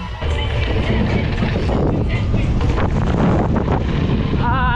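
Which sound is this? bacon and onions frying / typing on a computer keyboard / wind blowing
wind blowing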